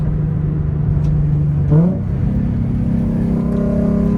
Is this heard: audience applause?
no